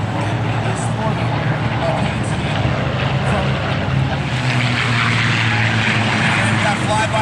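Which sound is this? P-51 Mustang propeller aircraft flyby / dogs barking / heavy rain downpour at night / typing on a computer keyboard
P-51 Mustang propeller aircraft flyby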